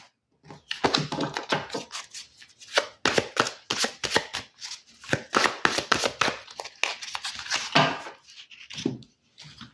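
A deck of tarot cards being shuffled by hand, with bursts of crisp riffling and slapping that come in quick repeated rounds and stop briefly between passes, close and fairly loud.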